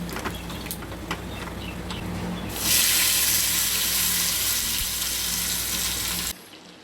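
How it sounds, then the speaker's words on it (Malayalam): A Kerala sadya tempering for kalan: mustard seeds, fenugreek and dried red chillies hit hot oil. The sharp frying hiss and crackle starts partway through, holds loud and steady, then cuts off near the end. "കടുകും ഉലുവയും വറ്റൽമുളകും കൂടെ ഇട്ട് കൊടുത്തിട്ട് നന്നായിട്ട് അതൊന്ന് പൊട്ടി വരുന്ന സമയത്ത് കറിവേപ്പിലയും കൂടെ ഇട്ട് കൊടുക്കാം"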